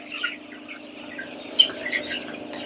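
Large roosters on a poultry farm, a few soft clucks and chirps over a steady low hum of background machinery, near and fairly quiet.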